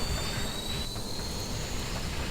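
A train rolling past on the steep Saluda grade railroad, a steady close rumble with a thin high squeal of wheels on rail running through the whole short stretch, with no voices.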